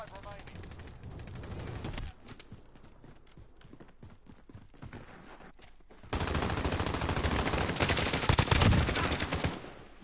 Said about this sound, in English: What weapon is that he's using? That weapon... Looks like AK-47, doesn't it?